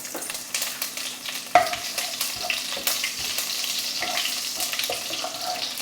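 Hot oil crackles and sizzles steadily as green chili drops into the spice tempering, with a sharp burst partway through and stirring scrapes throughout.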